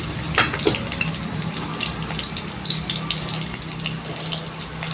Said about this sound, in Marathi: हे कढईमध्ये मी तेल तापत ठेवलं आहे आणि त्याच्यामध्ये हा ठेचलेला लसूण घालते.